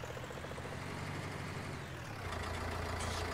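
A tractor engine idles in Farming Simulator 19, a steady low rumble that holds evenly, then deepens and grows slightly louder near the end.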